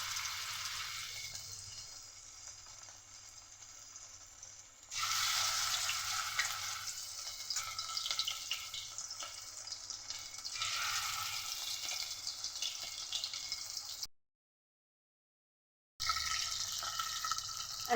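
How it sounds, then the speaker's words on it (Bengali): Bombay duck fish fry in very hot mustard oil, a steady crackling sizzle that swells loudly as the pieces go in, continuing close and unbroken with a brief silent gap near the end. "এবার আমি এর মধ্যে দিয়ে দেব একে একে আমার লোটে মাছগুলো।"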